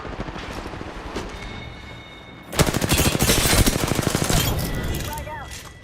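Smart bullets fire in a video game as rapid machine-gun bursts, a loud dense rattle starting midway and running several seconds before tapering, over a constant battle din.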